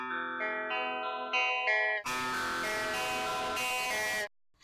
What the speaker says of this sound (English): So we have here symmetrical distortion